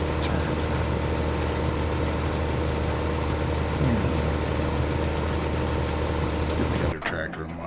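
A tractor engine idles with a steady low rumble and drone as the machine turns, loud and continuous, with speech under it and a brief knock near the end.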